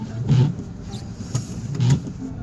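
A car rolls along a road on a rainy day, its steady low road rumble swelling twice in soft surges, close and moderately loud with no talk.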